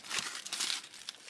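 Crisp, close crinkling of a trading card pack wrapper being torn open, a short run of rustling crackles with no talk.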